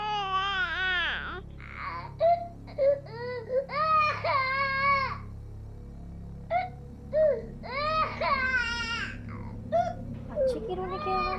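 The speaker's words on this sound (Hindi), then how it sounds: "बच्चे की रोने की आवाज।" A baby cries in repeated wailing bursts separated by short pauses, fairly close and clear, with whimpering sobs in between.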